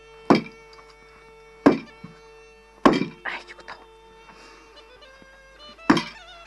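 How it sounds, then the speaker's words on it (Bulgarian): Unsweetened dough slapped down hard during kneading, giving about five heavy, dull thuds at uneven intervals, with quiet voices between the blows. "като не е сладко тестото, събие поне 40 пъти, за да стане хубаво тестото"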